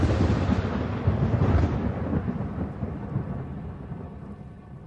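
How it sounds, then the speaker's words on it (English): Heavy thunder from lightning striking during a storm, a loud deep rumble that swells early and slowly fades over several seconds, with rain hissing underneath. "Lightning started striking the ground around me"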